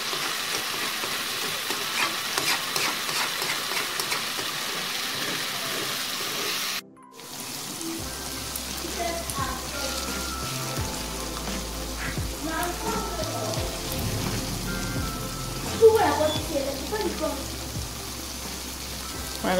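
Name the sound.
grated coconut cooking on the fire, releasing oil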